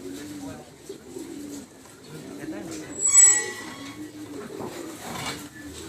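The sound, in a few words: pigeons cooing at a pigeon loft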